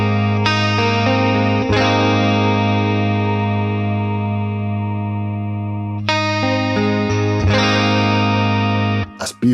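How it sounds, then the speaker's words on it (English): Blackstar St James guitar amp plugin with its flanger post-effect engaged: loud sustained chords ringing out with a sweeping, swirling modulation, restruck around two, six and seven and a half seconds, then cut off near the end. "I really like the flanger on this."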